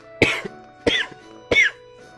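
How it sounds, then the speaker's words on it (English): Three sharp, evenly spaced coughs come from a person close to the mic, each a short harsh burst followed by a brief rasp. "all of a sudden it's just like, oh, we got a cough now"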